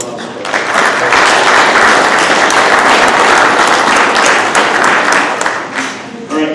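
A room of people at a fire district meeting applauds firefighters, loud dense clapping sustained for over six seconds, with some crowd voices beneath.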